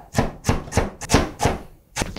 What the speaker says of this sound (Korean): 이렇게 당근을 채를 썰어 놓았어요.